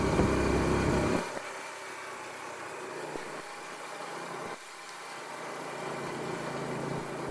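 A motorcycle or moped rides along a field road, its engine giving a steady mid-low drone that drops in level after a second and then holds fairly constant with slight variations, no speech.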